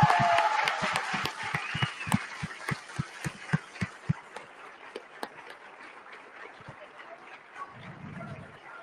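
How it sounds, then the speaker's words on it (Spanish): An audience at a book fair event applauds in honor of Rosario Ibarra de Piedra, with a burst of sharp, close claps that thin out and fade over several seconds. "démosle un fuerte abrazo, un fuerte aplauso a doña Rosario Ibarra de Piedra"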